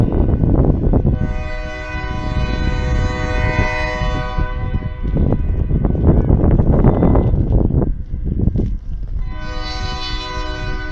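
Loud train horn blasting near the Cape Cod Canal bridge: two long sustained chords with a short break between, over the continuous rumble of a passing train close by.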